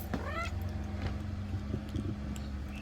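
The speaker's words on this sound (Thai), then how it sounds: "อันนี้เป็นแมวจรนนะคะ" A stray cat with a fungal skin infection gives a couple of quick rising meows near the start, then engine-like rumble and faint background noise continue.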